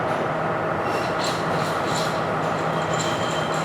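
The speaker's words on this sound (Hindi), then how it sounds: "और चौथी ट्रेन अभी यहाँ पहुँच गई।" A train rolls into Colombo railway station in Sri Lanka, heading for platform 5, with a continuous loud rumble and faint metallic clatter and squeaks from the wheels, heard without any voices.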